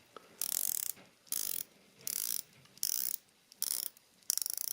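A 120-click bezel on a 200-meter steel dive watch is turned in short bursts of fine, rapid ratcheting clicks, very close and crisp, six bursts with brief pauses between them.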